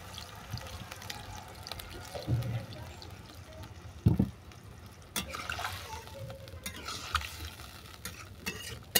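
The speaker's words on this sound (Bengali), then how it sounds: "দিয়ে দিচ্ছি পরিমাণ মতো জল" Water is poured into a cooking pot for a jute-leaf shukto, with splashing and stirring bursts and a few knocks against the pot, while a voice talks quietly.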